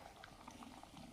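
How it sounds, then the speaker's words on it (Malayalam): Fish curry gravy of ground coconut and tamarind boiling steadily in a pot, a close, continuous bubbling and popping that runs without a break, with no voices over it. "ഇപ്പം നന്നായിട്ട് ഗ്രേവി തിളച്ചിട്ടുണ്ട്."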